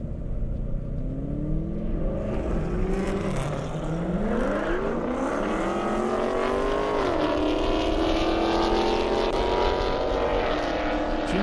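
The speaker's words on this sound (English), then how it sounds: "Jim Quinn, Corvette Z06 getting ready to launch right there" A Corvette Z06 and a Challenger launch side by side at an airstrip drag race, loud engines screaming up through the gears in layered rising tones, with a constant roar throughout and no talk.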